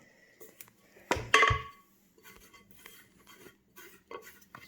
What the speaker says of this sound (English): Scrape the sides with our scraper.